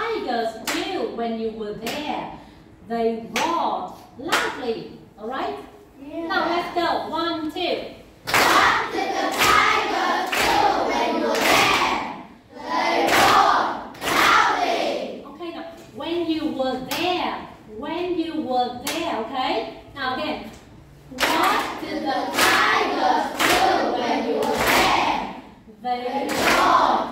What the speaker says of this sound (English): let's clap your hands